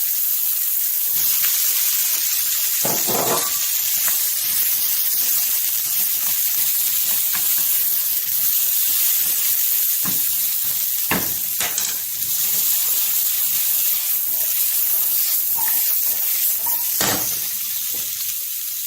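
Carrots and peppers frying in a pan for a gluten-free vegan coconut curry, giving a steady close sizzle and hiss with a few brief louder crackles and stirring clatters throughout.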